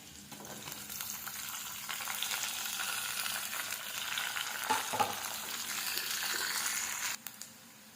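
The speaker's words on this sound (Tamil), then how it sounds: "ஓரளவுக்கு வெங்காயம் நல்லா வதங்கிடுச்சு" Chopped onions sautéing in hot oil with cumin and chopped garlic, a steady crackling sizzle with occasional stirring scrapes, fairly close and quiet, no talking.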